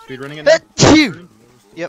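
Amid gamers' chatter during a zombie shooter session, a single sharp sneeze bursts out near the middle, brief and loud, with people talking just before and after it.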